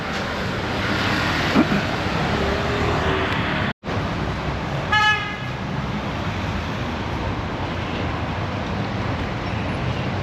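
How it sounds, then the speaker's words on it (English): Steady city street traffic noise in Sicily among old buildings and streets, with a short, bright car horn toot partway through, no talking. "and a lot of sounds of the city."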